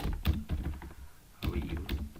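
Fingers tapping a computer keyboard up close, a few quick clusters of light clicks with a short pause between bursts, while someone talks over the typing.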